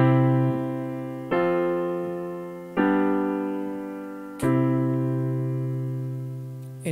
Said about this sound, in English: 1-4-5-1 in root position sounds like this.